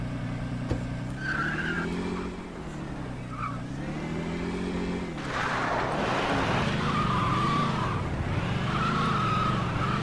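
Car in the Scarface: The World is Yours video game, a droning engine that rises and falls and then swells louder with long tire squeals from skidding.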